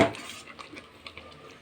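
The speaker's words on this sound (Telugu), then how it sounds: "చూడండి, ఇలా కలుపుతూనే ఉండాలి, లేకపోతే గడ్డలు కట్టినట్లు అయిపోతుంటుంది" Ash gourd halwa is stirred in a pan, opening with a sharp metal scrape of spoon on pan followed by softer scraping taps and faint bubbling, close and quiet.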